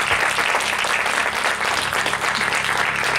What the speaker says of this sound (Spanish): vamos a darle las gracias, a un aplauso al Señor.